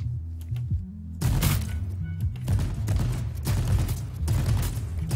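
Gunfire in a video game comes as rapid bursts of loud, thumping shots after a brief quieter moment, close and dense, with no talking over it.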